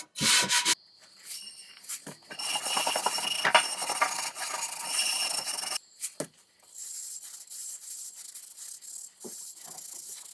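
A cast iron pan is scrubbed with coarse salt in loud, rough rasping strokes with brief pauses, the gritty rubbing close and continuous for most of the stretch.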